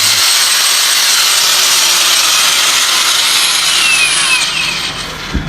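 Cordless brushless angle grinder with a copper motor, running at medium speed, gives a loud, steady high whine that holds evenly for several seconds and then slightly fades near the end.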